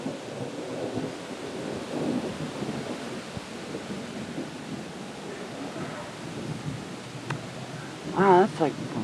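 Rolling thunder from a lightning storm in Chestertown rumbles low and long through steady rain, with a sharper, louder rumble near the end; a voice speaks briefly during it.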